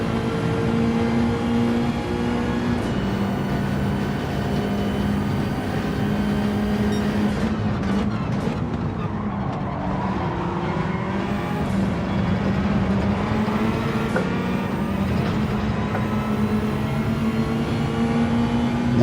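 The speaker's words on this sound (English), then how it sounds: "rev it out more, Mitchell, rev it out more." A car engine revs hard during an online lobby race in Gran Turismo 7, a loud, continuous drone whose pitch rises and falls with gear changes for the whole stretch, with no talking over it.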